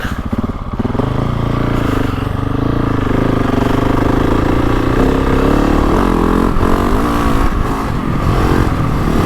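A GasGas ES 700 motorcycle engine running during a ride, a loud, continuous thumping single-cylinder drone that rises and falls with throttle, close and dominant throughout.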